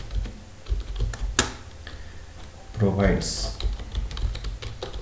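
Quick, uneven clatter of computer keyboard keys being typed, close and fairly clear, mixed in with someone talking.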